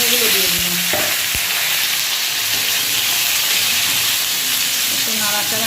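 Sliced ridge gourd hits hot oil tempered with black cumin and split green chillies, giving a loud, steady sizzle with a few stirring knocks and a faint voice at the start and end.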